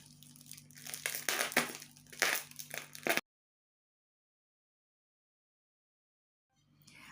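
A parcel containing porcelain, an ashtray and figurine, being unwrapped close up, with loud crinkling and tearing of packaging for a few seconds before silence.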